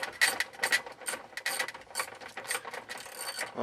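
Long screws being backed out of a metal plate on a 1995–99 Chevrolet Suburban steering column, giving repeated ratcheting clicks and metallic scraping in close, uneven bursts with no talk.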